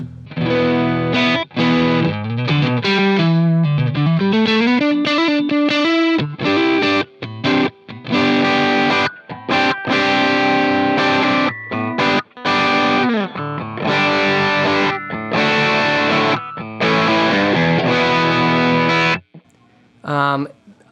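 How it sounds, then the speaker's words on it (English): Electric guitar through an Atomic Amplifire set to a crunchy Marshall Plexi amp tone plays loud, continuous distorted riffs and chords for about twenty seconds, ending with a short pause and a final strum. "I can access very easily and quickly. First is a Marshall Plexi."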